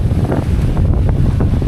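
Strong wind buffets the microphone with a loud, continuous roar and rumbling gusts.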